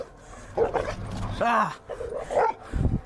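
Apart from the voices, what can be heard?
aggressive unleashed dogs barking and lunging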